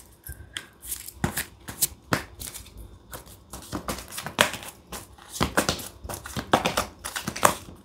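Oracle cards being shuffled by hand for a tarot reading, a close run of crisp riffling and slapping bursts in an uneven rhythm, with no talking.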